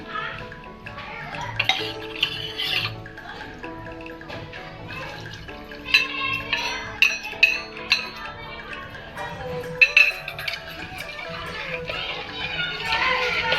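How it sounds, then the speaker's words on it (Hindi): About a glass of water is poured into sarson ka saag cooking in a pot, giving a sloshing trickle with light clinks of utensils throughout. "ये मैंने करीब 1 गिलास के करीब पानी लिया है और ये पूरा ही इसमें डाल दूंगी।"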